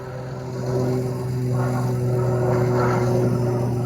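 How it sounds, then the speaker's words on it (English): A steady low drone of a propeller airplane passing overhead a canola field, its hum swelling slightly as it nears, fairly distant and continuous. "It's a plane."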